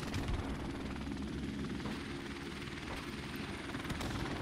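Helicopter rotor and engine drone in a first-person shooter match, a steady, loud, continuous thrum with faint chopping pulses, heard alone without talk.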